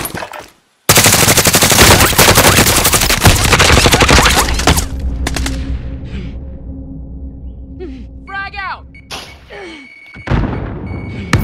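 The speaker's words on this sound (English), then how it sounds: "He's shooting at me." Loud, close automatic gunfire from the video game Warzone rattles continuously for several seconds, then tapers into fading tails and scattered shots, with faint game sounds and a brief burst near the end.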